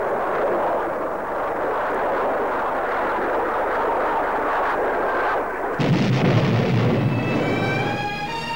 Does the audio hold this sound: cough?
no